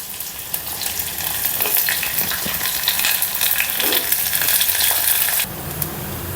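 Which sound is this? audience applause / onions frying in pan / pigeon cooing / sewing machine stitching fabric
onions frying in pan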